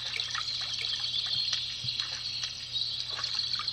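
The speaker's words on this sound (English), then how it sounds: "it makes a little ripple in the water" Soft rippling and trickling water effect from a koi pond iPhone app, a gentle continuous wash with faint bird-like chirps, steady and quiet with no talking.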